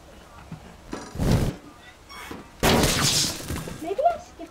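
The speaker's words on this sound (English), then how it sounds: "This one shoots fine, yes." A weapon fires in the voxel video game Teardown, two loud bursts of crackling, blasting noise, the second longer and harsher, heard between quieter stretches with a voice in the clip.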